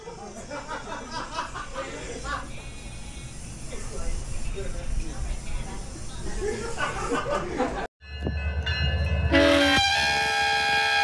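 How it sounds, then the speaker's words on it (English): A Union Pacific freight train rumbles past with a heavy, continuous roar and clanking, and a loud horn blares near the end. "I am fine with the Union Pacific Railroad conducting operations in this vicinity."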